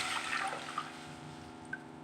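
Water, one and a half glasses, is poured into a cooking pot for chicken vegetable soup, a soft brief splash and trickle at low level with a couple of small clinks.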